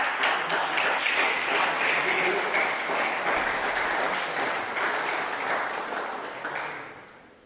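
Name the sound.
applause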